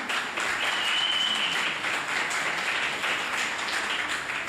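Crowd at a regional political rally launch in Mauritius breaks into sustained applause, a thick, fairly loud roar of clapping with faint whistles or shouts mixed in, continuing evenly.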